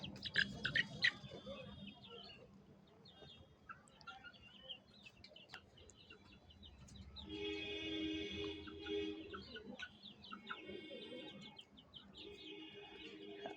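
Chickens cluck and chirp in a yard, with scattered calls over steady outdoor background noise and a brief harmonic tone partway through.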